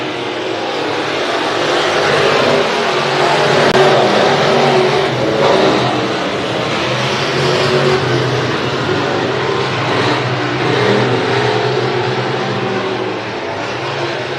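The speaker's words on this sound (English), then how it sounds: "Joey Jensen, he's trying to stretch that lead out" Race cars roar around the track at Hibbing Speedway during weekly racing, a loud, continuous engine drone that swells and rolls steadily as the pack passes, dense and unbroken throughout.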